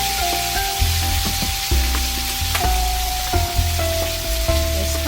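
Shrimp sizzling in a very hot wok, a loud dense crackle of frying oil with faint tonal hum and occasional stirring knocks.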